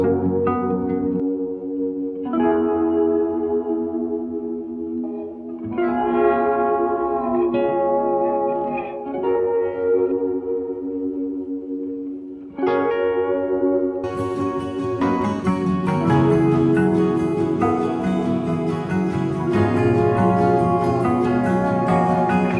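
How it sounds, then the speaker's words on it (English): Guitar chords swirl through a rotating Leslie speaker in a song's final chorus, entering partway as a dense, bright, sustained wall of sound over steady chords, with no talking. "the Leslie chords now come in only on that last chorus"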